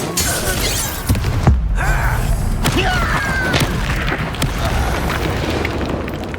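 A Confringo blasting spell explodes in Hogwarts Legacy, a loud booming blast with shattering debris followed by crackling, rumbling aftermath under a busy game soundscape.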